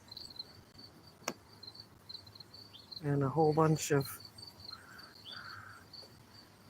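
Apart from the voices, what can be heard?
crickets chirping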